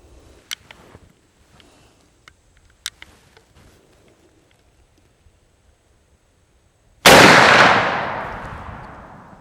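One loud, close rifle shot from a Henry X Model 45-70 firing a 320 grain hard cast hollow point, a sharp blast with a long decaying echo after several faint clicks and handling taps.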